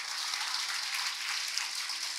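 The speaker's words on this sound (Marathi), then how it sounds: "सगळ्यांनी वा म्हणत आपण जोरदार टाळ्या करू" A crowd claps together at a women achievers awards ceremony, producing a dense, steady wash of applause that holds at an even level for the whole stretch with no voices over it.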